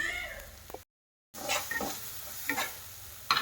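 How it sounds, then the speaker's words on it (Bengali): Chilli powder, pepper and salt stirred in a pan for batana, with scraping and light sizzling strokes before and after a brief gap of silence, close and moderately loud. "এর সাথে দিয়ে একটু নাড়াচাড়া করবো।"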